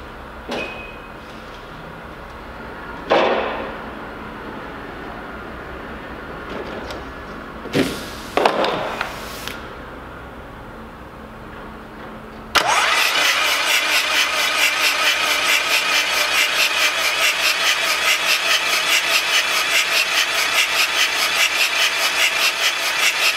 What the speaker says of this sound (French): j'amorce le moteur en huile